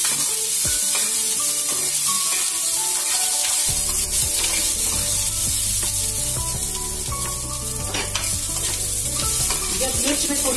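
Red chilies and garlic fry in hot oil in a pan while garlic chutney is being made. A loud, continuous close sizzle carries on for the whole stretch, with occasional stirring scrapes and crackles.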